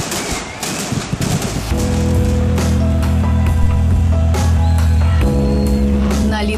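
Rapid, dense crackling of firecrackers bursting nonstop at the Patum festival in Berga, Catalonia, close and loud, over a deep continuous rumble.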